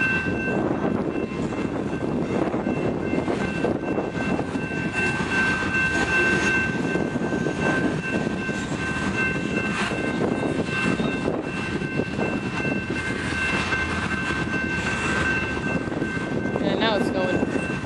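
Union Pacific grain train with two engines speeding up in Fort Worth, Texas, a steady loud rumble of rolling cars and engine noise holding throughout, with a faint high whine over it.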